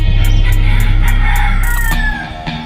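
A rooster crows from close by, one long loud call over steady low background noise, fading out near the end.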